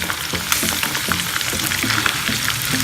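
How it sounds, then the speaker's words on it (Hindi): Chicken frying in hot oil for a boneless chicken handi: a loud, continuous crackling sizzle with dense spattering pops throughout. "हमने चिकन को 8 से 10 मिनट के लिए फ्राई कर लिया है और अब मैं इसको यहाँ से ऑयल से निकालने लगी हूँ"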